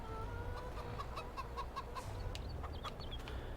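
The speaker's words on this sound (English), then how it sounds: "Oh, chicken, run away." Chickens cluck in the Farming Simulator 22 video game, a string of short clucks and squawks over a steady low engine hum, fairly close.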